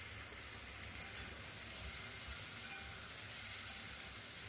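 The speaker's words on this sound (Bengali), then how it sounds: "উল্টে পাল্টে ভালোভাবে ভেজে নিচ্ছি" Chicken pieces fry in hot oil and are turned over, giving a faint, even sizzle and hiss. A low rumble sits underneath, and no distinct stirring hits stand out.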